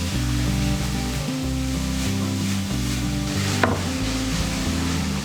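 Ground beef, corned beef and bacon sizzle and fry in a pan while being stirred, a steady close crackle running throughout with a few scraping stirs and a brief sharp clink near the end.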